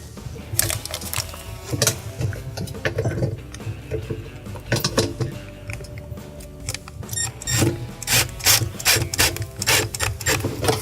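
A screw being driven into the slide rail of a Maytag dishwasher, with repeated ratcheting turns and grinding scrapes in short bursts, close and moderately loud, no talking.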